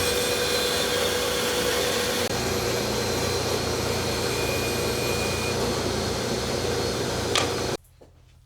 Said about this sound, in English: I figured I'd take a few minutes and hook up the vacuum and see how that works.